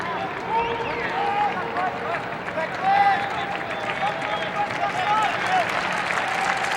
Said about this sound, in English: Fans applauding as Pat McCabe is coming comes out of the lineup in his final regular season home game.